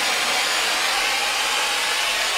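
A torch flame roars steadily as it unbrazes the copper fittings on a Whirlpool refrigerator compressor, a continuous close, loud hiss with no break and no talking.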